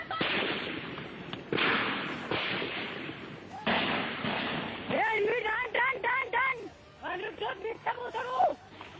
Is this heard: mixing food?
no